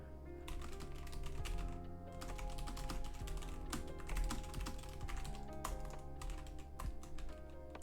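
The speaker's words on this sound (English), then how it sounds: "Typing has not gotten better." Rapid, steady clatter of fingers typing on a computer keyboard, dense uneven keystrokes close up and continuing for several seconds without talk.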